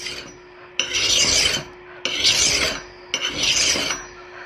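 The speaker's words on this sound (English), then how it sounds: "I'm basically thinning this behind the edge, trying to make this micro bevel an actual micro bevel by shaving this off" A file works along the bevel just behind the edge of a steel chopping axe. Three long, loud rasping strokes come in a steady rhythm, separated by short pauses, up close with no voices.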